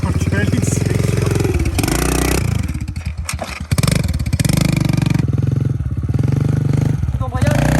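A Kawasaki KLX motorcycle engine runs loud and close during wheelie braking practice, its steady drone dipping and surging with a clutch snap and braking, while a voice talks over it.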